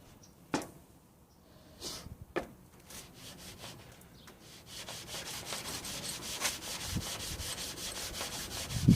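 A hard Naniwa Superstone 12K whetstone is lapped flat on worn sandpaper, starting with a few separate scrapes that build into a steady rhythmic back-and-forth rubbing, close and alone.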